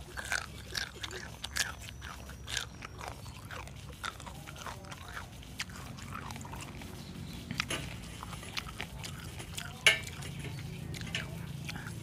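Grilled meatballs and sausage being bitten and chewed close to the mic in an ASMR setting, with repeated soft crunchy bites and moist chewing over a steady low background hum.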